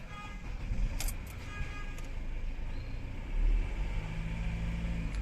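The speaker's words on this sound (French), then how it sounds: "je vais démarrer la voiture" A car engine cranks and catches with the check-engine warning light on, then settles into a low, steady idle heard up close with no talk.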